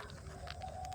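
Faint, soft clucking of chickens over low background noise, brief and steady.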